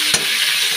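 Cauliflower frying in a large wok, a steady broadband sizzle throughout with one brief stir or clatter near the start, close and fairly loud, no voices.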